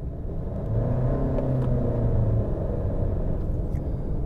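Honda CR-V with a 190-horsepower 1.5-litre turbocharged inline-four, heard from inside the car as a steady low rumble of engine and road noise while it accelerates, with no talk over it.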